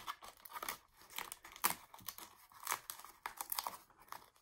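Paper or similar material being twisted and torn by hand to shape a flower for a sculptured painting, giving a run of close, irregular crinkling and ripping bursts with no talk.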